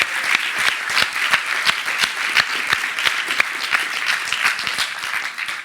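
A conference audience applauds after a Kotlin and Compose multiplatform talk, a dense, even wash of clapping with a few sharper individual claps standing out near the microphone, lasting several seconds.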